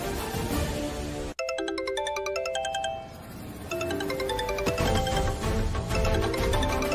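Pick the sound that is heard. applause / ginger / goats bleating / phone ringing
phone ringing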